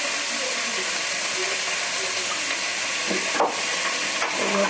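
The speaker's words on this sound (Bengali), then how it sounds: "বেল কড়াই আর আলুটা দিয়ে দিলাম বেল কড়াই আলুটা ভেজে নেবো" Potatoes frying in a pan give a steady, close sizzle with a few stirring scrapes and clinks near the end. A voice speaks quietly underneath.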